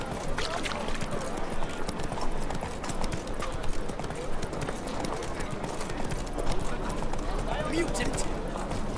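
Steady clip-clop of Roach, Geralt's horse, trotting through The Witcher game world, the hoofbeats fairly close and continuous, with a voice talking over them throughout.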